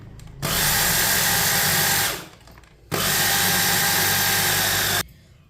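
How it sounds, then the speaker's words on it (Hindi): A kitchen grinder crushes flaxseed and sesame seeds in two loud, steady motor bursts of about two seconds each, separated by a short pause. "इसे ना हम थोड़ा थोड़ा डाल के ग्राइंड कर लेते हैं।"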